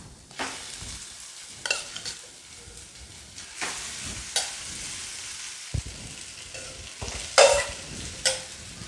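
Boiled potatoes for vada pav stirred into a sautéing onion mixture in a pan: close spatula scrapes and clanks recurring every second or so over a faint, steady sizzle, with no voices.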